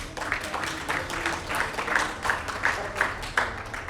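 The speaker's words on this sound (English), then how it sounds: "Can we give them a round of applause again?" A summit audience gives a round of applause, a moderately loud wash of clapping with some individual claps standing out in a loose rhythm, steady for a few seconds.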